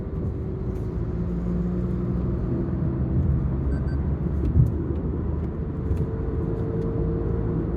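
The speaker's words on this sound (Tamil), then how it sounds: "இதுதாங்க இந்த டொயோட்டா டெய்சர் டர்போ பெட்ரோல் மேனுவலோட ஒரு டீட்டெயில்டான டிரைவ் ரிவ்யூ" Interior drone of a Toyota Taisor turbo petrol manual car driving on the road, a steady low engine and road rumble with faint tonal whine, continuous and moderately loud, no talk.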